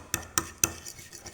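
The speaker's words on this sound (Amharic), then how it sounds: "እንደዚህ እየበጠበጥኩት ተበጠበጠ ማለት ነው።" A utensil clacks sharply three times against a bowl while stirring a batter of flour and water for breakfast, quick close knocks followed by softer scraping strokes.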